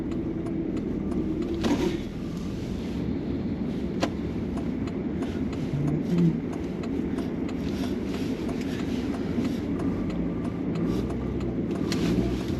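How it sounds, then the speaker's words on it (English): A Volkswagen Passat B5.5 with left-hand drive rolls slowly through a 30 zone, heard from the cabin as a low, steady engine and road hum with faint occasional clicks and no talking. "First time driving a left-hand drive car."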